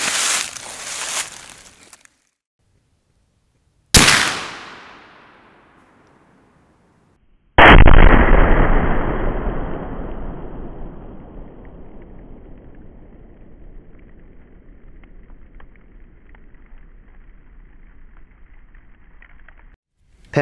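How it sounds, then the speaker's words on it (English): One-pound Tannerite explosive target set off by an AK-47 round outdoors, a short burst of gunfire followed by two very loud booming blasts, the second leaving a long rumbling decay. "Pound of Tannerite and the AK-47."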